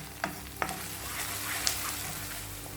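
Tomato paste sizzles in a pan as a spoon scrapes and stirs it, with a few sharp clicks of utensil against metal over a soft, steady frying hiss.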